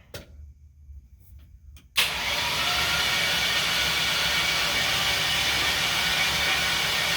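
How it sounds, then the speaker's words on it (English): A 5.3 LS V8 in a C-10 rat rod truck cranks over with its spark plugs removed, a steady loud starter whir that kicks in abruptly after two seconds of near quiet and runs without firing for over five seconds. "Cranking it over, no spark plugs in it."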